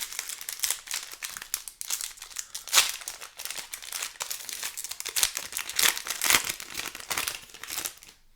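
A Baldur's Gate trading card booster pack wrapper is torn open and crinkled, with a steady run of sharp foil crackles and rustles, close and fairly loud, without any talking.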